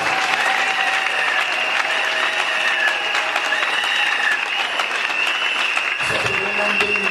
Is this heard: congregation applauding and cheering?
yes